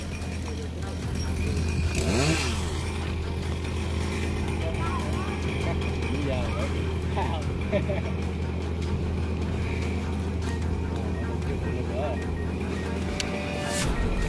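A chainsaw cuts into coconut palm fronds in a garden of apricot blossom trees, its engine droning steadily and close throughout the clip, with a voice talking over it.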